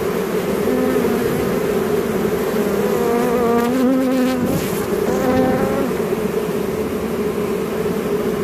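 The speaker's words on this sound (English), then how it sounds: "I've been looking for the queen as all these bees come out and pile into my hive" Dense, steady buzzing of a honeybee swarm pouring out of a tree into a hive in Tampa, Florida, loud and close throughout, with overlapping wingbeat drones that swell briefly midway.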